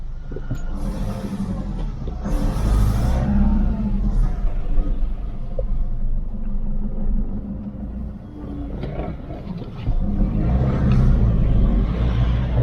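A Nissan Navara D40 pickup with a freshly repaired EGR valve drives along at night, its engine rumble and road noise steady and close throughout, swelling briefly in a few places.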